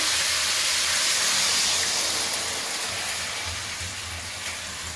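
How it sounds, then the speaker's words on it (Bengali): Steady broad hiss of steam as water hits sautéed vegetables in a hot pan, loud and continuous, slowly easing off over a few seconds with no voices. "সবজি কষানো হয়ে আছে আমি জল দিয়ে দেবো"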